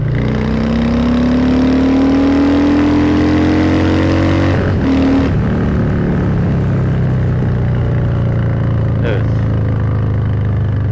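Harley-Davidson Softail Heritage Classic 114 motorcycle engine fitted with an aftermarket air filter, idling with a deep steady rumble. The throttle opens so the pitch climbs, with a sharp blip midway, then it settles back to a low idle.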